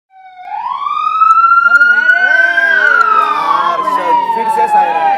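A loud siren sounds on a cooking competition set, starting with a rising wail that climbs in pitch, then holds as a sustained, wavering tone close by.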